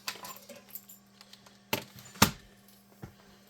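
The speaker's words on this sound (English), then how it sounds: "Let me get my keyboard out." A computer keyboard is pulled out and handled, making a quiet series of irregular plastic clacks and rattles, with two sharper knocks in the middle against a low steady room hum.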